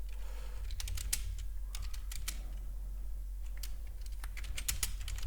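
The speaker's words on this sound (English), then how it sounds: "You do hear typing." Quiet, close computer keyboard typing comes in irregular bursts of light key clicks with short pauses, over a steady low hum.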